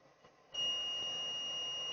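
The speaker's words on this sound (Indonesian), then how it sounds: "alat ini akan berbunyi dan lampu hijau itu akan menyala" Continuity tester on a multimeter checking a series path on a BlackBerry phone board, sounding a steady high-pitched beep that starts abruptly after faint handling noise and holds unbroken to the end.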